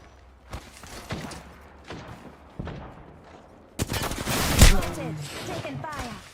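Video game gunfire in an Old School RuneScape session: a few scattered shots early on, then a loud, dense burst of fire with heavy impacts partway through, mixed with other game sounds and quiet talk.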